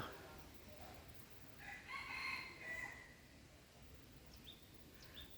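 A jungle fowl crows once at a forest temple, faint and distant against a steady outdoor background hiss, followed by a couple of brief far-off bird calls.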